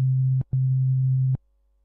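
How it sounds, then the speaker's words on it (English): A synthesizer oscillator sounds a pure, deep sine tone with no harmonics, steady and clean, in two bursts with a brief gap between them and then silence. "The sine wave is the most simple type of waveform with no harmonics,"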